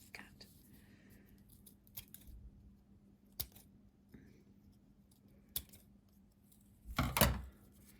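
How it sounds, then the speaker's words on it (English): Scissors snip through a folded paper snowflake, cutting a small rounded notch at the point, in a few scattered quiet clicks with a louder crunch of blades near the end. "if you want a little hole in the middle of your snowflake, you always cut the point at the other end."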